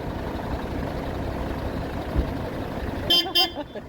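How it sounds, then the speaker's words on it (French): Two short car horn toots from a camper van stop out near the end, sounding close and fairly loud after a stretch of steady road and engine rumble. "un petit bébé klaxon pour un bébé, une bébé maison"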